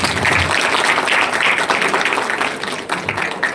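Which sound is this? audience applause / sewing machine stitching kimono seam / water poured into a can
audience applause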